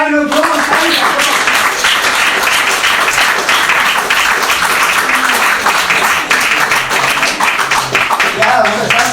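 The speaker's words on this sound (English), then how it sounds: "Let's do another round of applause." Sustained applause from a church congregation at a Sunday service in Bolton, a dense, loud wash of clapping filling the whole stretch with voices mixed in.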